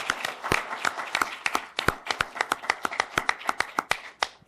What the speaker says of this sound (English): And one more round of applause for our moderator,